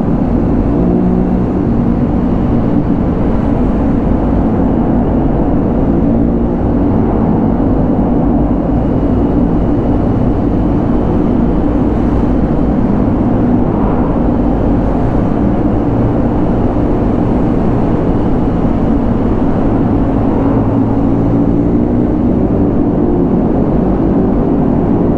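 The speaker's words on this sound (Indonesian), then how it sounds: "deruman masing-masing. Macam-macam motor dalam ni kan. So korang dengar sendiri lah." Several motorcycles of mixed types droning steadily together on a highway group ride toward Bentong, a continuous loud rumble of engines and wind with no speech.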